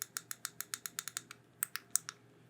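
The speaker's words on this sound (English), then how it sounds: "A decent click. Maybe about 1mm of throw there when we push the button in." Buttons on a Fanatec Podium R300 sim racing wheel clicked repeatedly, about fifteen crisp, close, quiet clicks in a fairly steady rhythm with a brief pause before the last few, no voices present.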